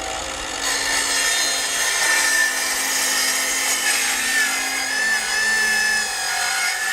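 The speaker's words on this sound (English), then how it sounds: "we're going to cut this 2x2 into 6 feet" A saw cuts through a 2x2 wooden board with a steady, close, loud rasping drone that holds evenly for several seconds, with no voices.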